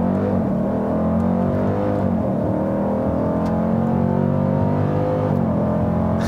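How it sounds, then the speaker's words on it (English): A 2018 Dodge Durango SRT engine roars steadily under launch control and full-throttle acceleration, a loud continuous drone with rising tones heard from inside, no talk. "It tells you to apply brake pressure and then apply full throttle. So you use 2 feet and then floor it."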